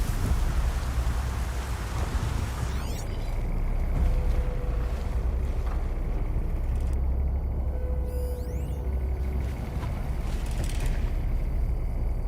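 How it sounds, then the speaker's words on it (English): Heavy rain falls steadily in the video game Horizon Zero Dawn, a dense, constant wash of downpour that fills the whole stretch, with a few faint chirps and short tonal game sounds over it. "Raining like it's trying to wash everything away."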